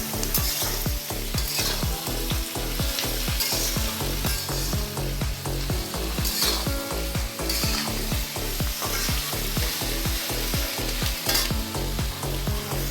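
Fried lentil dumplings hit a hot pan and sizzle loudly while a spoon stirs them in a steady, rhythmic scraping pattern, part of cooking ridge gourd with shrimp and poppy seed paste.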